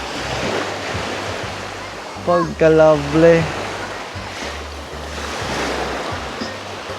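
Sea waves wash steadily against a beach at Dolores Beach Resort, Mabini, Davao de Oro, in a continuous rushing hiss, while a person briefly exclaims something partway through.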